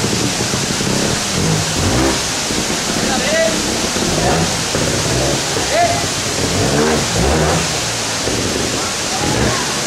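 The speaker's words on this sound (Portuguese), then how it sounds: "a minha moto faz barulho" A trial motorcycle engine at a TrialGP event in Gouveia, Portugal revs in repeated loud bursts over a dense, noisy background, with voices talking intermittently.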